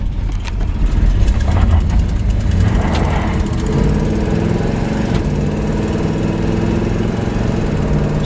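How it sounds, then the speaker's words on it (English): A 1973 Chevrolet Nova engine runs at a steady, rumbling idle through its exhaust, close and loud, with a low, even throb throughout. "She fires right up. It's got a great sounding little exhaust system."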